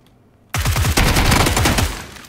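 Rapid automatic gunfire in PUBG bursts out after a moment of quiet, a dense loud volley of overlapping shots that tails off after about a second and a half.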